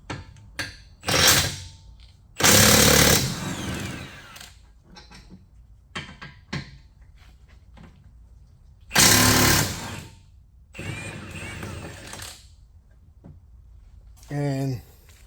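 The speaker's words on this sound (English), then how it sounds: "I'm gonna use my impact wrench because it's faster for me to do it." A pneumatic impact wrench hammers out 21mm brake caliper bolts on a Mercedes S550 W222, two long loud rattling bursts plus shorter blips, close up, with metallic clinks between.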